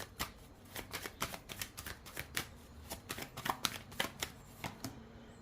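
Tarot cards shuffled and drawn during an air-sign reading, a steady run of crisp, close riffling snaps and slides in quick irregular rhythm, alone without talk.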